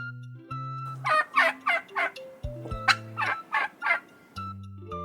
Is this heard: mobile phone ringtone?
no